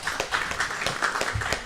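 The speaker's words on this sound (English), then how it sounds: "I will request another round of applause for Vani." An audience applauds singer Vani with brisk, steady clapping of moderate loudness that lasts the whole brief moment.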